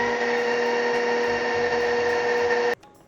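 Electric mixer running steadily on maple ginger cookie dough as dry ingredients go into the wet, a strong whirring motor drone with a constant high whine that cuts off abruptly near the end.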